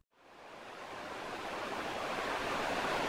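River water flows in a steady, broad rush that fades in at the start and then holds constant and fairly loud, with no voices.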